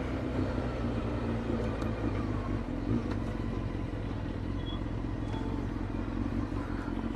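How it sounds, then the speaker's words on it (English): Motorcycles pass by outdoors near a beach, giving a continuous low engine rumble at moderate distance over steady background noise. "Couple of bikes."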